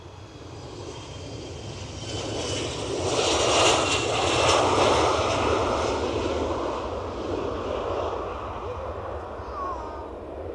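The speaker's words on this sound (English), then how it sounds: "it got up cleanly, as you would expect with an ERJ 145" An Embraer ERJ 145 regional jet taking off from Edinburgh Airport, a broad engine roar that swells to a peak and then holds steady as it climbs away, heard from a distance in the open air.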